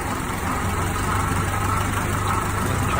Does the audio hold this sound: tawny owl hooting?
no